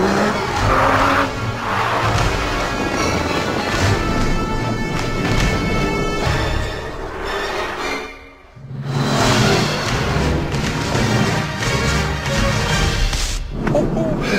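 Aston Martin V12 Vantage driven hard through a right-hand corner toward a jump, engine roaring with repeated tire squeal and skidding, a brief dip as it lands, then renewed loud revving close by.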